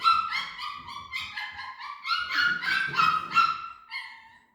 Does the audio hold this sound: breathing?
no